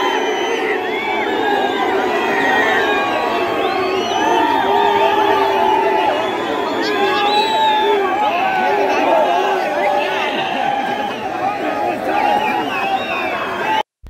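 A large crowd gathered at night by a Shivaji Maharaj statue for the Shiv Jayanti celebration, a steady dense murmur of many voices with children's shouts and scattered whoops, people talking throughout at close range.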